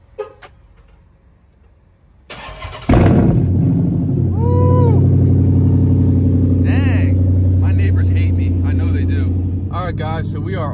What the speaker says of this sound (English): Let me give y'all this little startup.